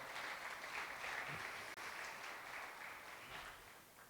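Church congregation applauding together during a worship service, a steady dense wash of clapping that fills the room and carries on without a break, with no voices over it.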